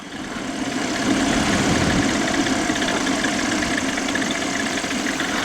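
A light aircraft engine on landing approach, throttled back to idle, gives a steady, fairly loud drone with broadband wind and airframe noise and no speech.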